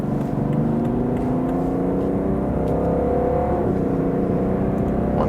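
2019 BMW 5-Series Touring accelerating in sport mode on a motorway, heard from inside as a smooth, rising engine tone over steady road and wind roar, continuous and fairly loud, with no talking.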